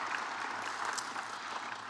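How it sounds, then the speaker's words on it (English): An audience at a college professional development day gives a big round of applause, with a dense, even wash of clapping hands filling the room. "So big round of applause."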